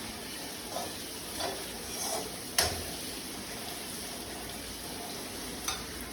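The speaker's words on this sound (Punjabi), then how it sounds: "ਲਓ ਜੀ ਇਧਰ ਆਪਣਾ ਤੜਕਾ" Tadka tempering sizzling in a pan for dal, a steady soft frying hiss with a few faint stirring clinks and crackles, close and quiet, without talk.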